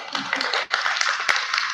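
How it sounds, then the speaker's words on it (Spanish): Brief burst of audience applause at a leadership talk, a dense, even patter of many hands clapping for under two seconds. "Un aplauso, por favor."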